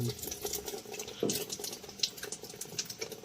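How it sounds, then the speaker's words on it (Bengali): Water trickles slowly into a Haier top-load washing machine through a faulty inlet valve, a soft steady running and splashing with faint patter throughout, no one talking. "জলের স্পিড কম থাকায় আমরা ইনলেট ভালভের মধ্যে থাকা ফিল্টার ক্লিন করেও দেখেছি, তাও প্রবলেম সলভ হয়নি, সেম স্পিডেই জল পড়ছে।"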